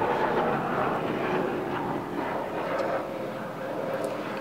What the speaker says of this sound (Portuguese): E vamos dar tchau para o helicóptero voando